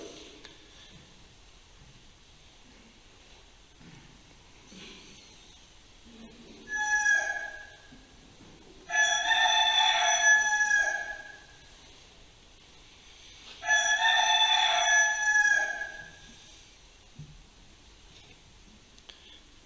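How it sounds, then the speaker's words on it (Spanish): A rooster crows in a staged musical Passion play at the moment of Peter's denial: two long, loud crows, with a shorter call just before them, stand out against a quiet, hushed background. "Enseguida cantó el gallo."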